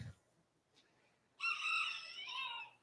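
A rooster crows once, loud and near, at a junior livestock poultry show, following a brief quiet stretch with faint background noise.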